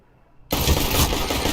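Gunfire erupts in a video game shootout, a sudden loud burst that cuts in after near silence and continues as dense, sustained shooting.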